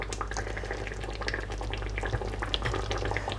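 Lamb chop and potato curry in base masala gravy being stirred in a pan, giving a steady close bubbling sizzle with wet scraping and spoon clinks throughout, no voices.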